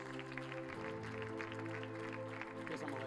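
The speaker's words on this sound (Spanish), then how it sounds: "denle un aplauso a Cristo" Applause at a church service, steady and continuous for about three seconds, mixed with a sustained musical tone or organ-like hum beneath it.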